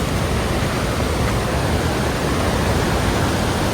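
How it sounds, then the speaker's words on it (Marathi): Waterfall hidden among trees on a forest hiking trail in Joffre Lakes Park, British Columbia, a dense unbroken rushing roar filling the air, loud and constant with no voices. "येस, तो इथेच कुठेतरी आहे, झाडात लपलेला धबधबा"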